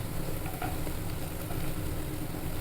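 Capsicum and onion sizzle in hot oil as they fry for veg Manchurian, a steady, dense crackle that runs unbroken and fairly loud throughout, with no talking.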